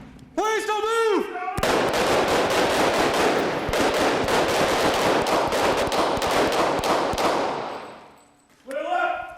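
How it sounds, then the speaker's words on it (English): Sustained rapid gunfire from a police academy firearms training drill fills several seconds: loud, dense, nearly continuous bursts, with shouted voices just before and after. "what we were trying to achieve was consistent fire, kind of constant fire, aimed at the objective"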